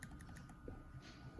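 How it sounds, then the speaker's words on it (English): Arrow keys pressed on a computer keyboard, a run of quiet, quick clicks and taps at close range over a soft room background. "arrow buttons on my keyboard"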